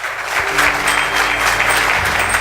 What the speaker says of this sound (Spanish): Dale un aplauso fuerte al Señor en esta tarde.